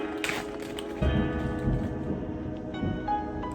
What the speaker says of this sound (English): By the way, it's raining.